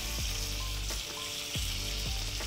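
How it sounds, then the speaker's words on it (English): Potatoes searing in a pan of butter, sizzling steadily and close with a dense, even crackle, broken by a few brief scrapes or stirs. "And I'm gonna take this, just searing it off in all of that gorgeous butter."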